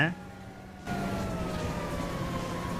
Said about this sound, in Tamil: மிலிட்ரி பேஸில் எதுக்கு ஃபயர் இன்ஜின் வச்சு துரத்திட்டு இருக்கீங்க?